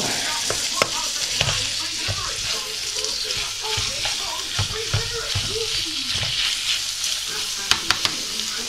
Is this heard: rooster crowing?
no